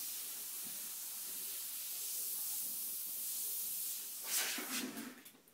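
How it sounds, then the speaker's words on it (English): An airbrush sprays paint at about 30 psi, a steady fine hiss running close and alone, swelling into sharper bursts near the end. "And I'm spraying it roughly, well, right now about 30 psi."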